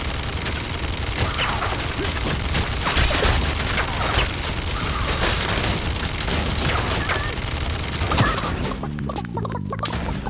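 Machine gun fire in Realm Royale, loud and sustained with rapid bursts and crashing impacts running nearly throughout, ending in a short stretch with a tonal effect.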